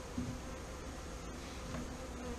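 Honeybees buzz in a steady, faint hum around a beehive during installation, a low continuous drone with a few individual bees passing closer, and no speech.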